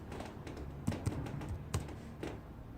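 Fingers tap on a computer keyboard in a quiet room, a short run of irregular keystrokes with a few sharper clicks, faint and close.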